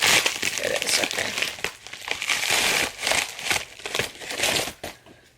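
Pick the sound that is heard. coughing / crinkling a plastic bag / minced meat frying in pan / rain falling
crinkling a plastic bag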